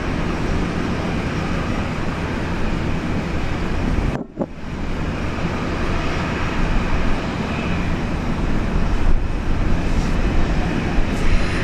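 Jetstar Airbus A320 airliner at Brisbane Airport, a loud, steady broadband jet roar with wind buffeting, briefly cut by a dip near the middle before the rumble resumes and continues, no voices.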